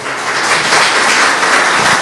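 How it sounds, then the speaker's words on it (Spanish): Dense, loud applause from a church congregation, a continuous wash of many hands clapping close by without a break. "Dele palmas al Señor, por favor."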